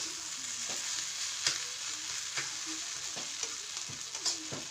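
Taro pieces fry in a pan over low heat, a steady close sizzle punctuated by regular scraping strokes of a spatula stirring them.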